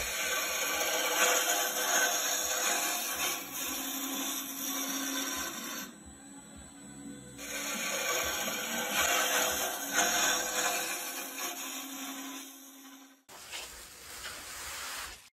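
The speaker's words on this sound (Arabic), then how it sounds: "يتم نحت الخشب بدقة وبدون أخطاء." A builder carves wood with power tools, making a whining, buzzing grind in long sustained passes that break off for short pauses and then resume, with no voices.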